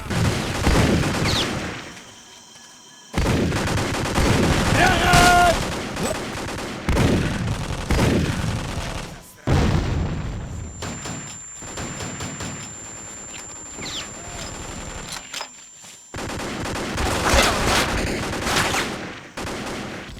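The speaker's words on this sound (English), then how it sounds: "Loud gunfire and screams of both the enemies and your squad mates, combined with powerful feeling and sounding weapons" Rapid bursts of rifle and machine-gun fire from the Vietnam War video game Vietcong, loud and close, in repeated dense volleys separated by brief quieter gaps.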